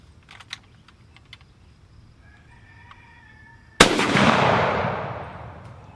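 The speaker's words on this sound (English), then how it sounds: "I'm just going to put 5 rounds through this gun just to make sure that it functions and everything okay." A German G43/K43 semi-automatic rifle fires one loud, close report that rings and decays over a couple of seconds, preceded by soft mechanical clicks and handling noise.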